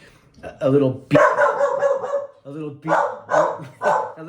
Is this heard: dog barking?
yes